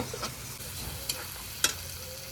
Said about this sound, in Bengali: পেঁয়াজ আর টমেটোটাকে আমি একটু হালকা ভেজে নেব।